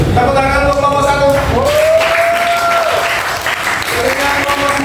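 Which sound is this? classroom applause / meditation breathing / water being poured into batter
classroom applause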